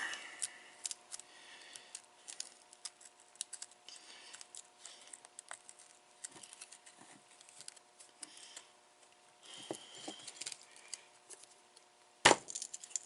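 Worn shifter bushing being wedged and pried out of its mount, a series of faint woody creaks and small clicks with one sharp snap near the end as it gives way, no talking.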